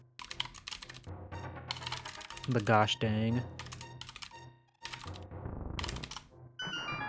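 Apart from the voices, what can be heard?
typing on a computer keyboard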